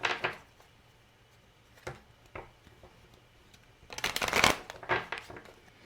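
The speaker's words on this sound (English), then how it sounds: "I will shuffle the cards a little bit more" Quick bursts of cards being riffled and shuffled, a short flurry at the start, a couple of faint taps, then a longer, louder shuffle near the end.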